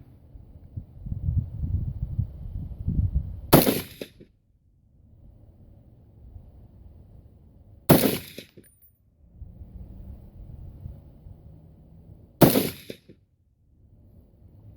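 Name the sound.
unsuppressed KelTec RFB rifle shots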